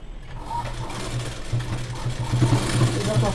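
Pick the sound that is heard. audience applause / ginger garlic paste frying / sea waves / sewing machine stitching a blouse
sewing machine stitching a blouse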